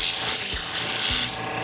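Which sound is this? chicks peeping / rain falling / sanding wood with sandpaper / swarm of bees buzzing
sanding wood with sandpaper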